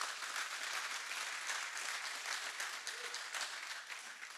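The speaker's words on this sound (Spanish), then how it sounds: "Dale un aplauso al Señor." A church congregation applauds during a sermon, dense steady clapping from many hands filling the room, fairly faint and continuous throughout.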